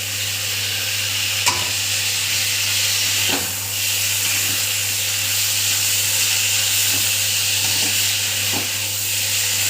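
Garlic and ginger paste sautéing in a pan for a potato and banana flower curry, a steady loud sizzle and hiss running throughout, with occasional faint scrapes of stirring.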